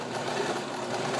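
A sewing machine stitches fabric for a ruffled flower pillow, a loud, close, continuous mechanical whir with no pauses and no voices.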